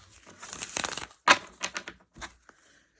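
A deck of tarot cards is shuffled by hand in quick, close bursts of papery riffling and slapping, with short pauses between passes. The sound is fairly soft, with no talking.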